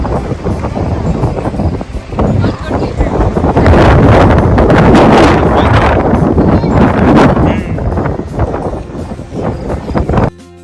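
Strong wind roars beside a waterway on a breezy day where kites are flying, a loud, continuous buffeting rush across the microphone that swells and eases for several seconds without letting up.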